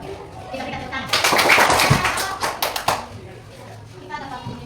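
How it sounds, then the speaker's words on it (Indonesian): A short burst of audience applause at an Indonesian teacher coaching session, dense clapping swelling for about two seconds before thinning into scattered claps, with people speaking before and after. "Kita berikan tepuk tangan."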